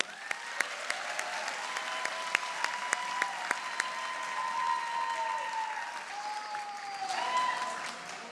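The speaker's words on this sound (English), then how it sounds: "How about one more round of applause?" A round of applause for a graduating class at a convocation, sharp individual claps joined by sustained tones of instruments or voices that swell underneath and linger.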